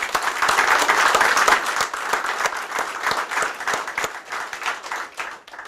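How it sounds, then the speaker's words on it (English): An audience at a university baseball coach announcement breaks into lively applause, with loud, sharp clapping from many hands that swells early and then carries on in uneven waves, no talk over it. "give you all a round of applause"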